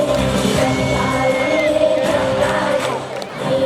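An audience cheers and yells loudly throughout an award ceremony at a Karnataka Rajyotsava celebration in Tekkalakote, a continuous crowd roar with steady tones underneath.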